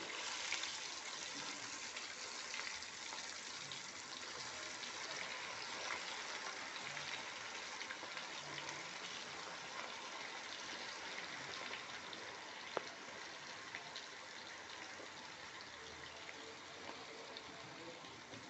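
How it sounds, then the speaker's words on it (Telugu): Chicken pieces frying in a pan of hot oil, a steady broadband sizzle and crackle running evenly throughout without pause. "నూనె వేడైంది ఫ్రెండ్స్. ఇప్పుడు దాంట్లో చికెన్ వేసుకుందాము."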